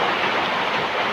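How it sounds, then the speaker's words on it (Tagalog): Heavy rain pours steadily outside a hut during an approaching storm, a dense, unbroken wash of noise that stays loud and even throughout, with no voices over it. "Di ba malakas ang ulan?"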